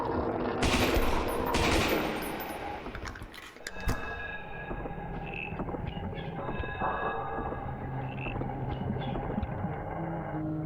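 Gunfire in the horror video game Lost in Vivo, a loud burst of several shots early on followed by a sustained tense game soundscape.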